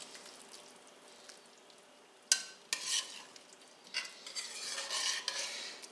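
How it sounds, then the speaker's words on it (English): A spoon stirring thick pea soup in a pot, with soft scraping and wet swishing strokes that start faint and grow fuller, in a quiet kitchen. "If you give the soup a stir, the peas will magically puree themselves."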